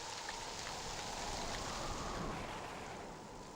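Steady rain falling during a wedding scene in a Hindi TV drama, a faint, continuous hiss and patter holding evenly throughout with no voices over it.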